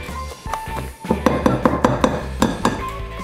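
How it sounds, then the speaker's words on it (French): Cookie dough with eggs mixed by hand in a bowl, a quick run of close, regular clinks and knocks against the bowl, about a dozen in three seconds, with no talking. "On mélange à la main pour dire que c'est bien mélangé"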